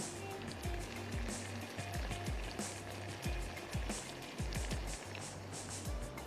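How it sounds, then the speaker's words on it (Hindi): A small splash of water goes into a hot garam masala mixture for fried chicken masala, raising a steady close sizzle with repeated low thuds and clatter throughout. "मैं इसमें ऐड कर देती हूँ थोड़ा सा पानी।"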